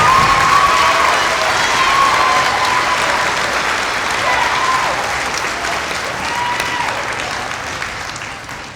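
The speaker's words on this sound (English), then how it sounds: "How about another round of applause for Jocelyn Moran?" Loud, sustained applause from a school audience at a middle school band's holiday concert, with scattered cheers and whoops rising over the even clapping, steady throughout and thinning slightly at the end.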